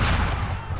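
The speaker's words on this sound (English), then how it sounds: "This would be more fun if the cannon was rapid fire" A cannon firing in Assassin's Creed 3, a single deep booming blast with a heavy low rumble that decays over under a second.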